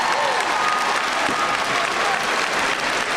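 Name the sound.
applause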